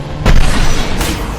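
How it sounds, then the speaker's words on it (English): A concussive shot ability fires in Mass Effect 2, a loud booming blast that swells suddenly and lingers as a broad rumble. A second burst follows about a second later, with no speech over it. "Concussive shot ready."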